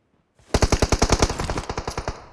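An automatic weapon in PUBG Mobile fires a rapid, close burst of about fifteen loud, evenly spaced shots with a ringing tail, with no talk over it.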